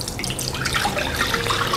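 Water poured off from a pot of softened vegetarian dough while cooking, a loud continuous splashing stream like a tap running into a sink, with no talk.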